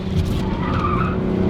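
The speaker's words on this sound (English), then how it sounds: "Dude, this car is so fast." A 2023 Toyota Supra with a manual gearbox driven hard, its engine note rising and straining loudly inside the cabin while the tires squeal, heard close and without talking.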